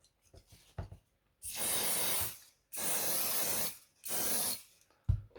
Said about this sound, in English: I spray it on the bit where I'm gonna glue